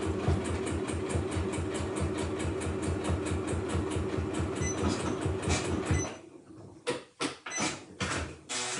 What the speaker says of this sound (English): I'm just going to do a couple of stitches forwards and backwards and then come all the way around